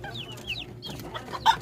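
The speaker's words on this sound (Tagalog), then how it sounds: "Tawag sa mga manok na to, bantam." Bantam chickens cluck softly in quick short notes, a few close calls over about two seconds with faint farmyard background.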